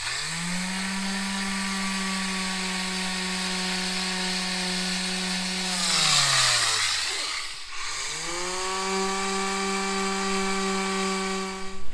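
A power tool cleaning metal aboard a narrowboat whines steadily, winds down partway through, then spins back up to its high-pitched drone.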